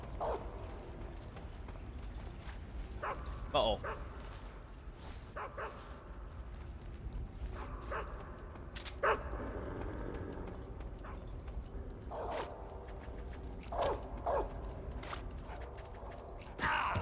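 A dog in the video game Metal Gear Solid 3 gives scattered short barks and yips over a quiet ambient backdrop, with a few sharper sounds, and a person speaks briefly.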